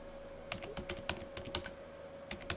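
Fingers typing commands on a computer keyboard in an Ubuntu Linux terminal, a quick irregular run of light key clicks with brief pauses, quiet and close, no talking.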